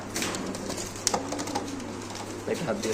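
Fancy pigeons coo softly at a large pigeon farm, low murmuring calls running steadily under a voice and general background bustle.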